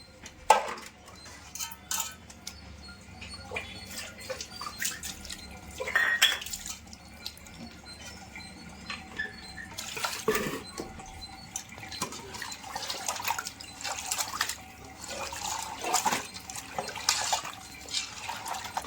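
A single large fish of about two and a half kilograms being washed by hand in water for a village-style mango fish curry, with close splashing, dripping and pouring that continue throughout, with no talking.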